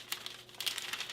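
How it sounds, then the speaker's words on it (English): Parchment paper crinkles softly in a short burst of rustling while being laid over keto fathead dough on a kitchen counter, close and fairly quiet, with no voices. "we are going to place the other piece of parchment paper over it"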